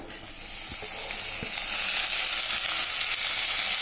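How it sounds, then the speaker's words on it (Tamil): Tomato added to sautéed onions frying in a pan, with a dense, steady sizzle that swells and stays loud up close, broken early by a couple of sharp spatula knocks, and no voices. "வதங்கின பிற்பாடு தக்காளி சேர்த்துக்கிறேன்."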